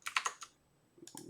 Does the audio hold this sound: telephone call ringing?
no